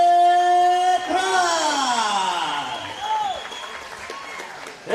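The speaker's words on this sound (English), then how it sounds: "make some noise and a round of applause for Gustavo" A boxing event crowd applauds and cheers for a fighter from the red corner, a steady rumble of noise beneath a booming announcer's amplified voice.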